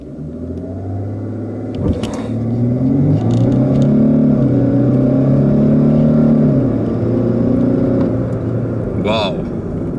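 A 2015 Infiniti QX70 SUV with a 3.0 liter diesel engine accelerating in sport mode, a loud close cabin rumble whose pitch climbs through gear shifts and drops again, with a brief voice near the end.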